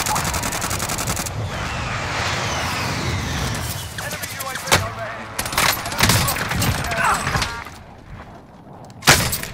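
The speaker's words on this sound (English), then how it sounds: "I'm getting shot at like 20 times, bro." Gunfire rattles through a Warzone match, with rapid bursts and scattered single shots over a steady rumble of vehicle engines, loud and dense throughout, while a player talks over it.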